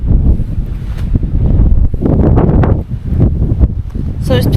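Strong wind blasts across a mountain summit on the Isle of Arran, roaring and buffeting the microphone nearby in loud, uneven gusts with no clear voices.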